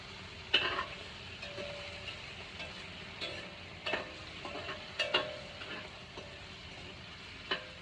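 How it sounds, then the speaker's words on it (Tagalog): Corned beef cooking in a pan, with soft stirring scrapes and intermittent clinks of a utensil over a quiet background sizzle, occurring in scattered bursts. "Niluluto ko corned beef."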